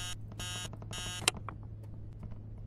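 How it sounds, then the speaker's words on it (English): Three harsh alarm bursts from the Texas Chain Saw Massacre video game, then a sharp knock as the ringing cuts off, leaving faint scattered clicks over a low hum. "Stupid alarm."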